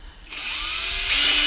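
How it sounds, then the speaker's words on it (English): A power drill boring a hole into the back of an aluminum pop can, starting after a short pause and then whining steadily and loudly, rising in pitch, up close with no speech. "we'll drill a hole in the back of the pop can"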